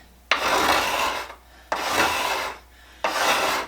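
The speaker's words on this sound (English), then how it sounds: "Now you can use a scraper by hand" A hand scraper blade drawn across wood in three firm, evenly spaced strokes, each a close, raspy scrape that starts with a sharp bite and then fades.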